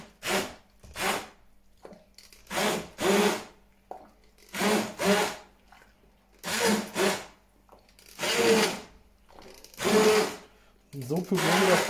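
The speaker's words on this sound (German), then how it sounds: "Und wir fangen jetzt vorsichtig an zu pürieren." Hand blender pureeing pumpkin into a creamy sauce, switched on in short bursts: about eight whirring pulses, each a second or so long, separated by pauses, close and moderately loud.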